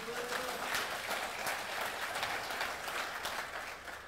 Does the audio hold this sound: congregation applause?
yes